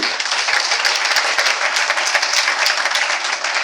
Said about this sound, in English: I would like you to give a very resounding round of applause